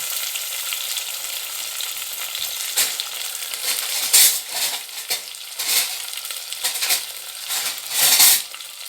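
Small onions (shallots) sauté in hot oil for kuzhambu, a loud continuous sizzle with bursts of stirring and scraping that swell and fade in waves.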